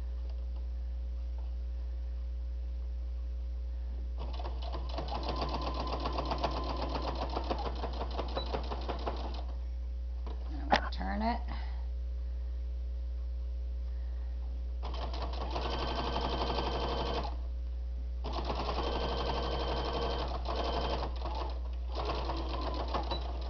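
Home sewing machine stitching a fabric bowl cozy heat protector in bursts, a run of several seconds, a break with a short clatter, then two more steady runs under a constant low mains hum.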